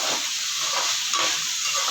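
Half-cooked potatoes sautéing with ginger-garlic paste in a pan, a steady bright sizzle with soft stirring scrapes pulsing underneath, close and continuous.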